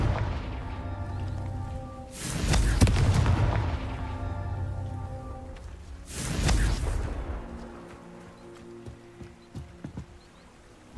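Two heavy booming blasts from the Confringo fire spell in the Hogwarts Legacy video game, each a loud burst that rolls off and fades over a few seconds, with a lighter thud and clatter near the end.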